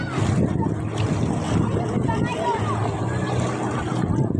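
Constant wind rushes past at Bilad-Bilad River in Norzagaray, Bulacan, a broad steady roar with faint voices talking underneath.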